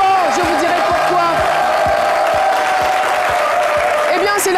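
A studio audience at the Super Ebony 2018 awards applauds and cheers loudly and steadily throughout, with a host's voice urging them on over the crowd noise.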